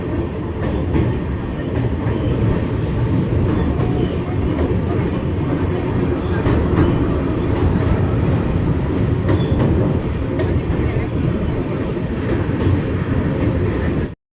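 A train crosses a bridge, rumbling past continuously with a dense, steady roar and rattling wheels, loud and close throughout; no talking.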